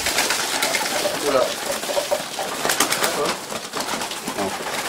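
Racing pigeons in a loft cooing and fluttering nearby, soft low coos over a busy background while someone speaks over it.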